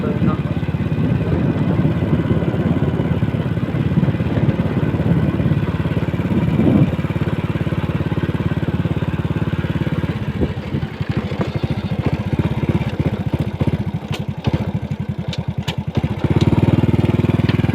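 A motorcycle ridden into town, its engine droning steadily up close with a rumbling, clattering texture and some wind noise, while a person talks over it.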